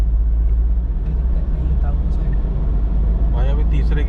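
A Toyota Innova engine pulls in first gear, a loud, steady low rumble from inside the car, with a voice talking over it near the end.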